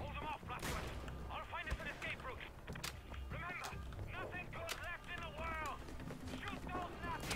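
Scattered gunfire in the shooter Wolfenstein The Old Blood, brief sharp shots spread across a busy combat scene, mixed with game voices and chatter in the background.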